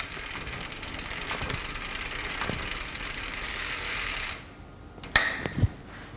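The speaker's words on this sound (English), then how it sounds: "Using your left hand, you pedal, switch through the gears, make sure the gears are running smoothly." Pedals spin a Royce Union RMX commuter bike through its Nexus 3-speed hub, giving a steady close whirring ratchet for about four seconds before it stops, followed by a few sharp clicks.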